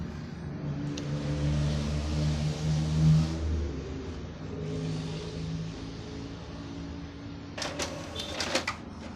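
An Epson inkjet printer whirs in a couple of mechanical bursts, then several sharp clicks and rattles as the paper feeds near the end.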